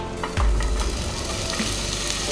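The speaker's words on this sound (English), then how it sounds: "you're going to add your onions into the pan" Onions hit hot oil in a pan and start a loud, steady sizzle, close up, with a sudden burst as they go in.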